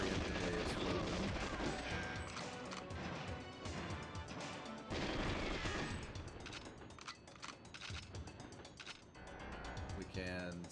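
Explosions go off in GoldenEye 007 on the Nintendo 64, with repeated loud crashing booms and gunfire-like bursts over dense game music and sound effects for the whole stretch.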